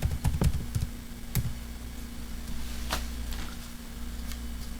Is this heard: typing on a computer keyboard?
yes